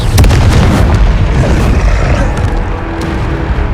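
A Confringo blasting spell explodes in the Hogwarts Legacy video game, making loud, close booming blasts with rumbling, crackling debris that runs for several seconds.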